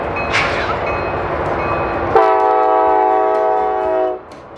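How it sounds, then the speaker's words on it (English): A train rumbles past loudly and close, then its horn blasts one long, steady chord for about two seconds before cutting off, leaving a quieter fading rumble. "you've ever wondered if you could sleep with a train running through your room?"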